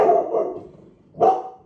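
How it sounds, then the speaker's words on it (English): A dog barks at someone outside, a short burst of two quick barks followed after a pause by a single bark, indoors and moderately near, with no talk over it. "My dog is just barking at someone outside."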